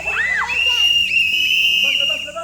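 Loud, shrill whistle blasts ring out at a War Games event, several sharp piercing tones in quick succession over crowd noise and voices.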